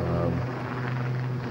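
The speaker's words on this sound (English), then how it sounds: "using again unique characteristics of the helicopter. They're able to manoeuvre in the hover." A helicopter performing a hovering pirouette at the RIAT 2004 air display drones with a steady rotor and engine hum, under continuous commentary from someone speaking.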